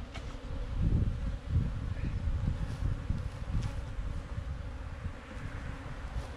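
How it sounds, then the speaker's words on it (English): Honeybees from a nuc being shaken into a hive, a dense low buzzing hum with soft thumps near the start, steady and close throughout. "I can shake those bees in"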